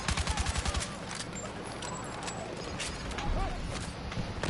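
Gunfire in Battlefield 6 opens with a rapid burst of shots, followed by scattered metallic clinks of bullet shell casings dropping amid continued mechanical clatter, with some talk underneath.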